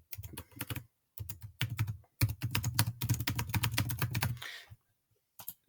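Fingers type steadily on a computer keyboard, with bursts of quick close key clicks separated by short pauses and a final few taps after a longer gap.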